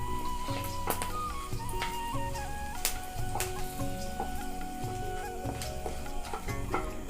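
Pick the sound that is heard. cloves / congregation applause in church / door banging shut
cloves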